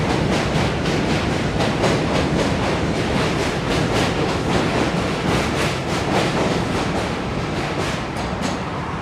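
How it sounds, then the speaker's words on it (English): NYC subway J train rumbling past on elevated tracks in Brooklyn, a loud steady roar with rhythmic clickety-clack of wheels over rail joints, close and continuous, slowly easing toward the end. "Another J train coming by."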